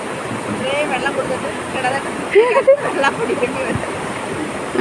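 Rushing river water released from a dam roars in a dense, continuous wash, with a voice speaking briefly over the torrent.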